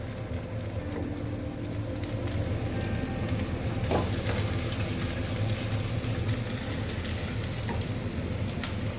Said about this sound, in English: Let the omelette cook in the middle.